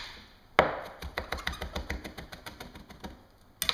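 Rapid, rhythmic knife chopping while mincing garlic on a cutting board, a sharp first strike followed by a steady run of quick close taps, ending with a final louder knock.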